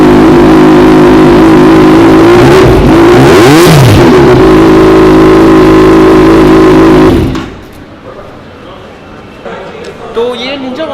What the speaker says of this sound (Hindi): तो ये निंजा 1000 का जो फुल सिस्टम टाइटेनियम एग्जॉस्ट है